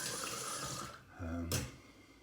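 Running water from a tap splashes as a face is rinsed after washing with scented soap, a steady close wash of water with a brief louder splash near the end.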